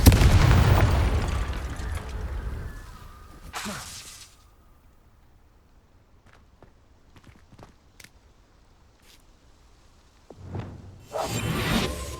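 A loud explosive burst from the Confringo spell in Hogwarts Legacy, opening the clip with a rushing whoosh and boom, then fading to quiet with scattered small pops and footsteps before another burst of effects near the end.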